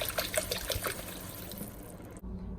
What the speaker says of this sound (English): So we're going to pour 4 cups of water.